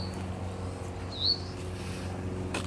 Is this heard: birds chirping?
yes